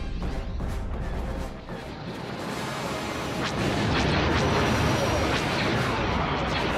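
Enemy blaster fire rattles through a LEGO Star Wars: The Complete Saga battle, with loud bursts of shots and crashing impacts over busy game music and effects.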